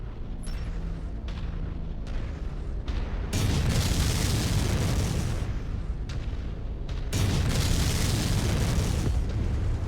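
Heavy explosions from destroyed targets in MechWarrior 5: Mercenaries mech combat, with two long, loud roaring blasts over a steady battle rumble and scattered sharper weapon bursts.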